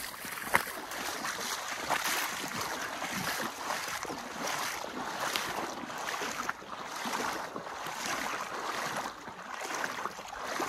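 Steady splashing and swishing of legs wading through knee-deep water in the Gila River, continuous and close with no talking.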